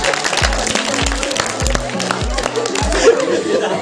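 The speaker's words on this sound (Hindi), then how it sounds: "तालियां बजाओ" An audience claps at a magic show, a steady patter of hands running throughout beneath voices, scattered laughter and thumping music beats.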